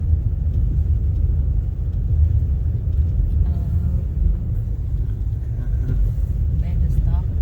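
A car drives across a 1.5-mile snowy bridge, its low road rumble and engine drone steady and close throughout, with faint voices briefly audible.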